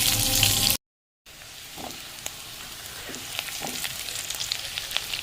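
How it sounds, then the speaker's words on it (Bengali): Sliced onions fry in oil with black cumin and bay leaf in a pan, giving a steady crackling sizzle with scattered pops after a short break in the sound. "পেঁয়াজটা ভাজা ভাজা হয়ে এসেছে"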